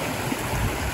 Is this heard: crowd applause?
no